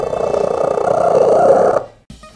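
A cat purrs loudly and close up in a steady, rumbling, continuous drone that cuts off abruptly near the end, leaving only a faint trailing sound.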